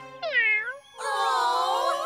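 A cartoon sand cat gives two short, high meows in quick succession, the second longer and brighter, close and clear with no other sound around them.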